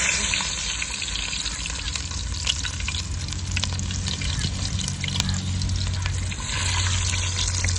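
Onions frying in a pan during roadside cooking, a steady dense sizzle with occasional stirring clicks and a low background hum, loud and continuous throughout with no talk.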